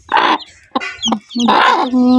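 A mother hen with chicks clucks close by in a few short bursts, then lets out longer drawn-out throaty calls, loud and clear with brief pauses between.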